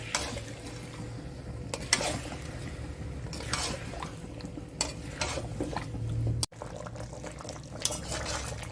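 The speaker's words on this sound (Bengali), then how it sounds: "ম্যারিনেট করা চিকেনটি চিকেনটি দিয়ে মিডিয়াম ফ্লেমে আবার একটু কষতে দেব" Marinated chicken sizzles in a pan over a medium flame, a steady close frying hiss with intermittent stirring scrapes and a brief sharp clatter partway through, no voices.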